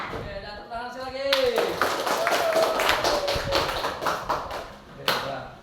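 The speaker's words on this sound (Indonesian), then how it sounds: "tepuk tangan sekali lagi" A short burst of hand claps from a group of children, following rhythmic cheer claps, rising sharply and continuing as a dense patter for several seconds with a voice talking over it.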